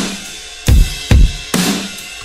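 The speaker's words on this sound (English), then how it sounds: "Altogether, the drums sound like this." A full pop drum pattern built in FL Studio with overdrive on every sample, heard as three heavy, punchy kick-and-snare hits with bright crash-like wash between them, loud and without voices.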